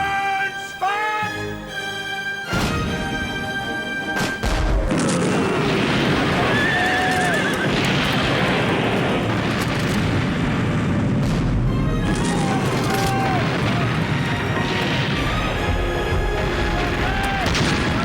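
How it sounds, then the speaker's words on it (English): Ship's cannons fire in a naval battle, heavy booms bursting out amid loud horse whinnies and neighing, with dense roaring noise throughout. "Alternate guns! Fire!"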